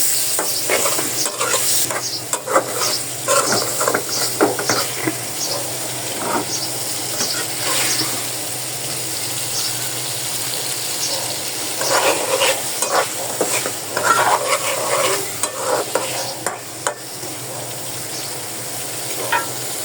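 Fish frying in a home kitchen pan with a loud, continuous sizzle and hiss, broken up by scraping stirs and small clatters of the utensil throughout, with no voices.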